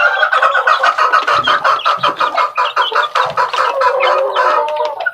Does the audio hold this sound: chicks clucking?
yes